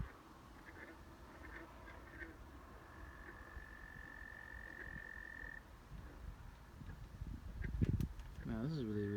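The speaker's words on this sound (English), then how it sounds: "those are frogs." Frogs croaking outdoors at night in Ontario, a steady chorus of distant croaks and trills with a long high trill in the middle, faint at first and joined by closer noises and rustling near the end.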